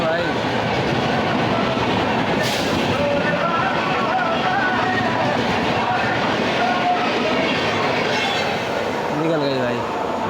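Riding aboard an Amrit Bharat Express general coach running through Etawah Junction station gives a loud, steady rumble of wheels and rattling carriage, with a voice talking over it and a brief hiss.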